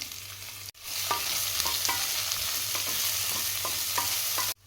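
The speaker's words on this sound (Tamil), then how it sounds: "வெங்காயம் நல்லா வதங்கிடுச்சு" Sliced onions with cardamom, cloves and pepper frying in a pan for dhaba-style mutton curry, a continuous close sizzle with repeated spatula scrapes that starts abruptly and cuts off near the end.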